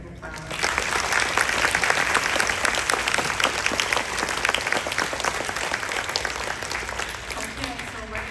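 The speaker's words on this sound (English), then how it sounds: "let's give them another round of applause." An audience applauds after a live play performance, a dense, steady round of clapping that starts sharply and continues loud and unbroken to the end.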